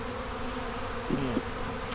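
Honey bees drone in a steady, dense buzz at an open hive holding brood frames and a queen, with one brief louder bee passing close near the middle.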